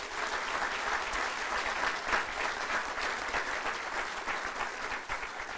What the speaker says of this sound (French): s'il vous plaît, une main d'applaudissement pour leur équipe.